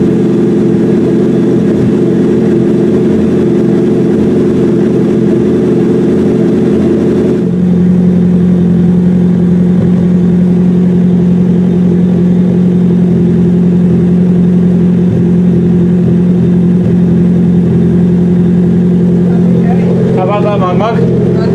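A 1994 Nissan Silvia S180 engine runs steadily after an exhaust modification, a loud droning idle that shifts to a deeper, stronger tone partway through, with voices talking over it near the end.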